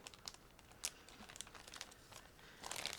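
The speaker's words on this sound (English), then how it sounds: "I will open this plastic bag as well." Crinkly plastic bag holding a model kit sprue is pulled open, giving quiet scattered rustles and crackles that swell again at the end, close by with no voices.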